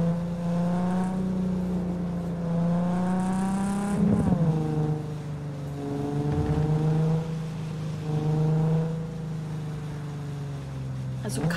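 A car in Cyberpunk 2077 drives with a steady engine hum that swells and dips as it revs and slows to park, continuous and close, with someone talking over it.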